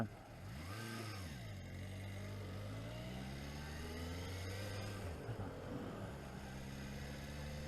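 A 1976 Honda CB750 F1 motorcycle engine while riding, its note rising and falling through gears at an easy pace, steady and fairly close with some wind noise around it.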